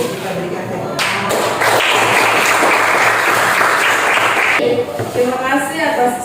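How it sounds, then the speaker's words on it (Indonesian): Classroom applause breaks out after a group presentation, a loud crisp clapping that swells after a second and carries on with a voice underneath. "Kita berikan tepuk tangan."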